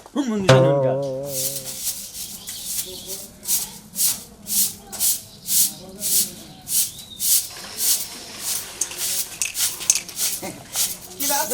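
Rhythmic rubbing strokes, likely a sandal being polished, swish back and forth about once every half second. A voice speaks briefly at the start, and the scrubbing continues steadily and close.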